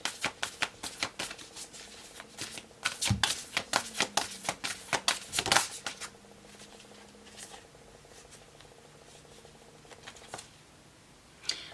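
A Moonology oracle deck being shuffled by hand, with dense riffling card flicks and slaps up close for several seconds, then quieter sliding and handling as a card is drawn.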